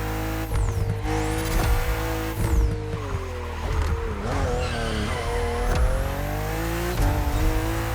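BMW M2 and M4 cars racing in The Crew Motorfest on a narrow road with sharp bends, loud revving engines rising and falling through gear shifts with tire squeal on corners, continuous throughout.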